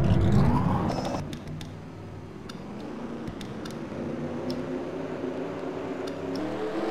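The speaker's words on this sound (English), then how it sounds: "There's the command to start the engines" Race car engines in a racing video game fire up and settle into a rumbling idle, a loud opening burst of revving giving way to a steady layered drone with a few sharp clicks on top.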